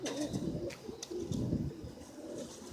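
Pigeons coo in a loft, the birds including red cocks bred from an opal gold bar and an indigo hen, with soft repeated low coos close by over a steady busy background.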